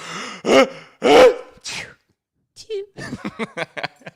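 A person imitates a small, dainty sneeze in a couple of quick breathy bursts, followed by another voice talking.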